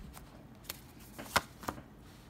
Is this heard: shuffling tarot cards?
yes